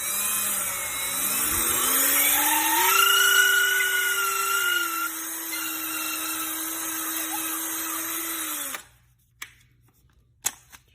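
A power drill bores out a custom fishing rod grip: a motor whine that rises in pitch, holds steady for several seconds, then cuts off, followed by a couple of faint knocks.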